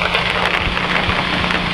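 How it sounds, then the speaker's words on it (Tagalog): Rain falls steadily at Pinsal Falls in Sta. Maria, Ilocos Sur, a dense close hiss of drops outdoors filling the short moment without voices. "Ay, ang ulan na."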